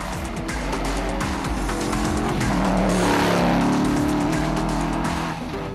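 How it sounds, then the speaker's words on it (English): A rally car pulls away hard from the start at the Timbertrack 400 rally, its engine roaring loudly and close with revs rising and tires scrabbling on the loose surface, the sound swelling and then easing slightly. "They were flagged away by the clerk of the course, Rex Boreham"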